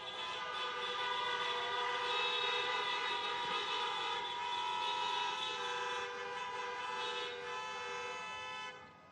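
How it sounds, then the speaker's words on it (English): Vehicle horns blare at an outdoor Joe Biden campaign rally in Philadelphia, a long sustained multi-tone honk held almost continuously with slight swells, fairly distant and reverberant, with no talk over it. "we're honking our horns"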